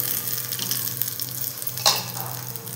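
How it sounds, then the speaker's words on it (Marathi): Red chilli and cumin sizzle in hot tempering oil, a close, steady crackling fry with a brief louder spit of hissing near the end. "त्यानंतर लाल मिरची अशा पद्धतीने तोडून टाकलेली आहे आणि ही मिरची याच्यामध्ये छान परतून घेऊया"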